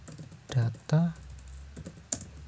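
Computer keyboard keys are typed in the NetBeans editor as a few scattered clicks, with a voice talking over part of it.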